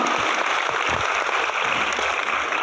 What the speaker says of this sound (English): can we give a resounding applause for that one?